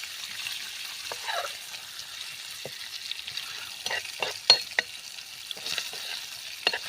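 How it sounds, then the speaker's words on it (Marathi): Fish pieces frying in oil in a pan with spinach, a light crackling sizzle with scattered popping spatters and faint stirring, quiet background between bursts. "तर फिश आपल्याला चांगले तेलावरती असे चांगले खमंग असे परतून घ्यायचे आहेत"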